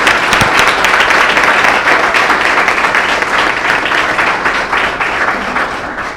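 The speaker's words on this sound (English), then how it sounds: "How about one last big round of applause for our amazing students?" A large audience at a school board meeting gives a long, steady round of applause to honored students. The clapping is dense and loud throughout, with no voices heard.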